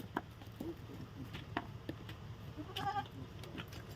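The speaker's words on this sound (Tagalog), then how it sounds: "Ayun yung kambing. Dalawang kambing, baby." Two baby goats bleat a few times, short nasal cries at moderate distance over a steady low background hum.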